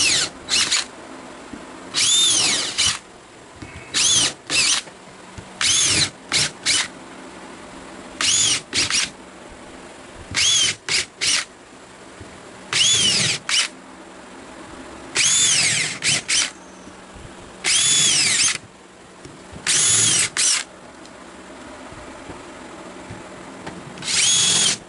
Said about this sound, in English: So we'll just pre-drill.